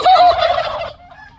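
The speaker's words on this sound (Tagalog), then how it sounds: "Pastilan tong mga pabo na to." Turkeys gobble in one loud, close burst lasting under a second, then a quieter trailing call fades out.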